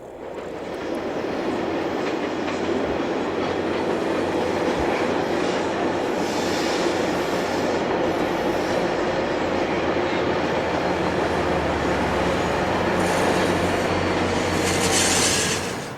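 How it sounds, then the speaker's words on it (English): A westbound ACE passenger train meets an eastbound UP freight train on Altamont Pass, a long continuous roar of passing cars with rattling wheels and occasional squeal, loud and close, building near the end. "Westbound Train 5 meets the eastbound UP freight amidst a blaze of golden grass."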